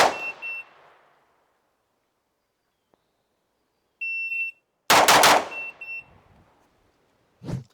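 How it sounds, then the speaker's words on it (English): Three pistol shots from a race gun, fired from low ready on a range: three loud, sharp close cracks spread across the span with ringing tails, and electronic timer beeps between them. "now we are going to shoot 3 shots from a low ready under 2 seconds"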